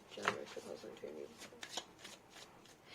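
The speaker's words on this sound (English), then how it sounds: "Let's shuffle this one more time." A tarot card deck being shuffled close by, with rapid riffling bursts of card noise early on and softer repeated shuffles after, under faint speech.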